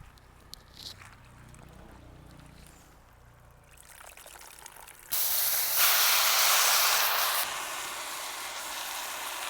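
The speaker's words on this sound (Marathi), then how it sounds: "भाजी धुवून घेऊ." Leafy greens such as dill and spinach washed under running water, a low faint rustle that gives way to a loud, steady rushing hiss of flowing water which later eases a bit, with no speech.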